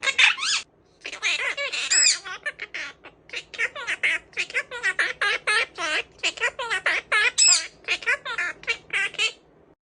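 A Quaker parrot chatters and squawks in quick, repeated, harmonic bursts close to the microphone, a busy stream of noisy calls with short pauses.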